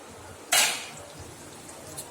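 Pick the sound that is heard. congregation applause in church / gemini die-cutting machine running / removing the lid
removing the lid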